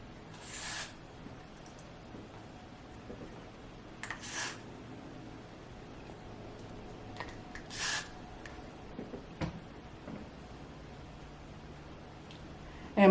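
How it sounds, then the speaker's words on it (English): Hair spray sprayed onto a T-part lace wig in several short hissing bursts spaced a few seconds apart, close and fairly loud against a quiet background. "Lay that down like so, and then spray some more spray."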